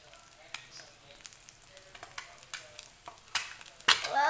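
Cooking oil spatters and sizzles in a frying pan at home, with a steady low fry broken by sharp pops and crackles that grow louder and more frequent toward the end.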